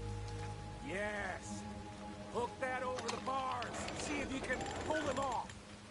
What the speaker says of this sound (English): the sun is out, but it's still raining